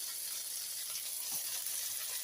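Chicken patties fry in a pan with a steady, even sizzle and hiss throughout, close and continuous, with a faint stir or scrape partway through and no talking.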